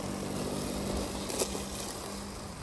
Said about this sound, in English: It is cutting the grass right now.